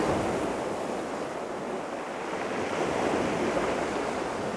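Ocean waves crash in a hidden cove on the wild Scottish coast, a continuous loud roar of surf with no pauses, mixed with wind buffeting the microphone.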